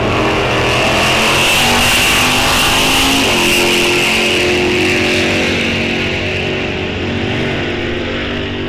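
Drag race cars launch and roar down the strip at Rock Falls Raceway during a bracket series event, loud sustained engine noise with a rising pitch sweep midway, fading slightly toward the end.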